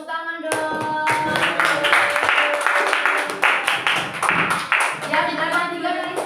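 Students in a classroom clap together for a correct answer, brisk rhythmic group clapping with some voices mixed in, close and fairly loud.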